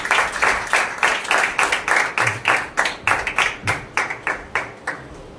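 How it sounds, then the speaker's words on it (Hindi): Audience at a Christian church preaching gathering in India clapping in a steady rhythm, about twenty distinct claps spaced evenly, fairly close and alone without speech. "एक बार ताली बजा के उन्हें एनकरेज करें।"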